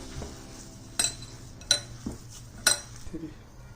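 Metal spoon against a bowl while ground coriander, cumin, black pepper and red chili powder are mixed, a few sharp clinks spaced about a second apart over soft scraping and faint talk.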